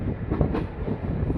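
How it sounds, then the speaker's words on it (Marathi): A Mumbai local train bound for Churchgate rumbles past at night with a low, rolling roar and faint rhythmic wheel clatter over about a second and a half. "तरी अजूनही चर्चगेटकडे जाणारे लोकल आहे."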